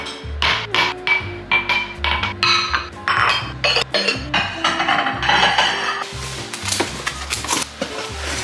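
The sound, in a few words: plates and glasses clinking while unpacking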